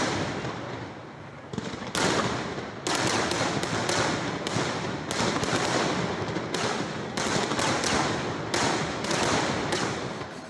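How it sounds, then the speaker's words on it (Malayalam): Daytime fireworks at the Thrissur Pooram festival boom in a rapid barrage, loud sharp blasts and cracks firing repeatedly in quick succession, densely overlapping and echoing. "തുടർന്ന് നടന്ന പകൽ വെടിക്കെട്ടും കണ്ട ശേഷം പൂരപ്രേമികൾ വീടുകളിലേക്ക് മടങ്ങി"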